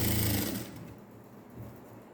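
A sewing machine stitches a folded edge on a net-neck blouse, running in a short loud burst at the start, then slowing and dropping to quieter, uneven mechanical hum.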